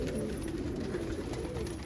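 Pigeons and doves coo softly and steadily close by while being fed greens, their low murmuring running continuously under a faint outdoor background.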